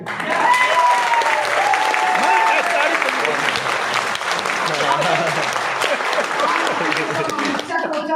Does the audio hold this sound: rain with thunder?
no